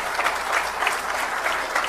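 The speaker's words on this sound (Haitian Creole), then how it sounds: "Je pense qu'il faudrait applaudir." Audience applause fills a diplomatic speech hall, a steady dense patter of many hands clapping at moderate distance, continuous and even.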